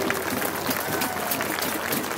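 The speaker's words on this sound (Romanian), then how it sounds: "Haideți aplauze" Crowd applause at a Dacian Wars reenactment festival, a continuous, fairly distant wash of clapping with no clear pauses.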